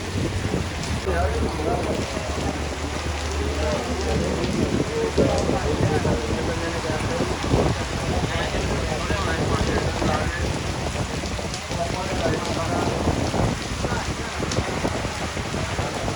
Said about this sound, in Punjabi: ਹਾਲੇ ਬਾਰਿਸ਼ ਰੁਕੀ ਨਹੀਂ, ਬਾਰਿਸ਼ ਹੋ ਰਹੀ ਹੈ